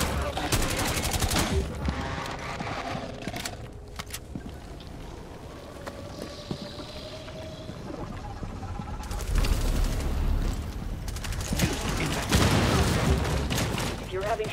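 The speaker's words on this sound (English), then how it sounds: "Sending impact. Throwing impact grenade." Rainbow Six Extraction combat with an impact grenade blast and bursts of rapid gunfire, loud and dense throughout with a quieter stretch in the middle, game voice lines and talk mixed in.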